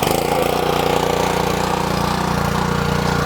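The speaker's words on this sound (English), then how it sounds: "Gotta love a Honda motor." A Honda motor, likely a small engine for after-season trap prep, runs steadily and close up, a continuous droning hum with no voices over it.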